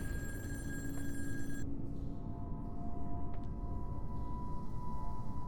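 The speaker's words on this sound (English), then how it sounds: "Why'd the phone stop ringing?" An old-style telephone ringing in the video game In Sound Mind, a bright electronic trill that cuts off abruptly partway through, followed by a quiet low hum and faint tonal ambience.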